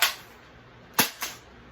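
A Nerf cylinder-fed blaster fires foam darts: three sharp snapping shots, the first right at the start, then two close together about a second later, each with a quick fading tail, no talking.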